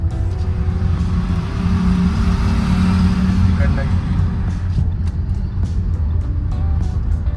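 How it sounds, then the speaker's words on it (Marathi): A car approaches from behind on a road during a temple road trip, its engine rumbling steadily and building, while people talk nearby. "ही आमची दुसरी गाडी येत आहे मागून."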